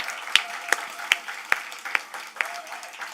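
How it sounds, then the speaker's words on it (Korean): A church lecture audience claps in a short run of distinct, evenly spaced claps lasting a few seconds, with no talking over them. "박수 한번 주실까요?"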